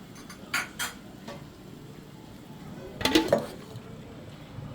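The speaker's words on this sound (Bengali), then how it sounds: "আমি এখন এটা ঢাকনা দিয়ে ঢেকে দমে রেখে দিব" A metal lid clanks onto a pot of beef biryani in a home kitchen, with a couple of light clinks first and a louder rattling set a few seconds later, close and distinct.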